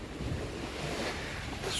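Sea waves wash steadily against the shore beneath a tree leaning out over the water, a continuous broadband surf wash with some wind noise on the microphone, no voices.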